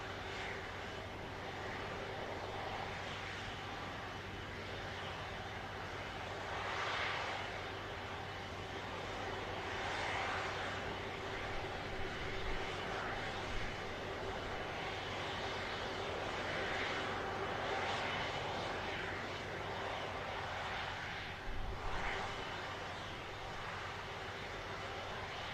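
A Hainan Airlines jet departs Manchester bound for Beijing, its engines roaring loud and steady throughout with a continuous broadband rumble that swells and eases slightly in waves, no voices present.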